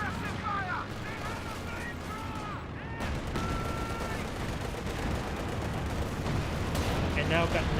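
Scattered gunfire and machine-gun bursts from a Company of Heroes 2 battle crackle through dense ambient combat noise, with a commentator's voice talking over the fighting.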